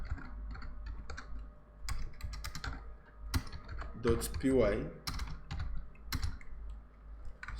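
Keyboard typing on a newly acquired computer keyboard while coding Python classes, rapid clustered clicks of keys near and clear, with someone talking intermittently over them.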